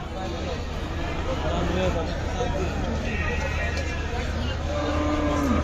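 Cattle moo at a busy Qurbani cow market in Ashulia, with a few lowing calls rising over a constant murmur of crowd voices and people talking nearby.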